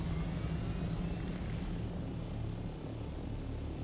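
A helicopter in Dune Awakening gives a steady, loud rotor and engine drone that holds evenly throughout with no speech.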